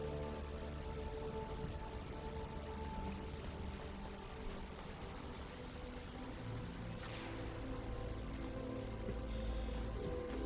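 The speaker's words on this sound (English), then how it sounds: "But now it's raining." Rain falls steadily in a sandbox video game as a dense, even hiss of drops that holds evenly from start to finish, with faint game sounds underneath.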